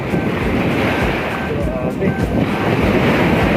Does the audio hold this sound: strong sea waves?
yes